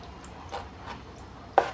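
A few soft knife chops on a cutting board, cutting chicken livers into small pieces, spaced irregularly, ending with one sharper, louder cut; close and quiet, no voices.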